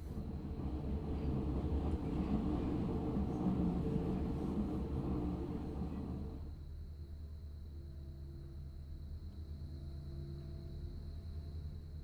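A subway train in the SubwaySim 2 video game, a U1 A1 train, gives a steady loud rumble and hum that drops to a quieter idle drone about halfway through, with no talk.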